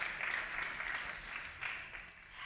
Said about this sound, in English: can we have another round of applause for our ring bearer